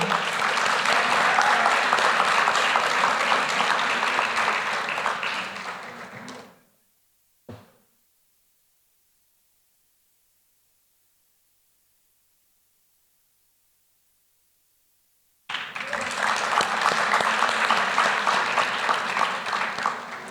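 Audience applause for a graduate at a Class of 2024 graduation ceremony: dense, loud clapping fades out, a long silent gap follows, and then the applause returns just as strongly.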